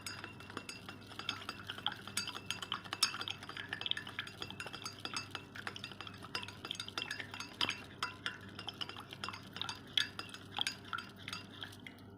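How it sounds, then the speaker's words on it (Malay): A spoon swirls quickly in a glass of water to dissolve salt, with steady rapid clinks and scraping against the sides throughout. "Kita masukkan 1 sudu garam dan kita aduk dengan cepat."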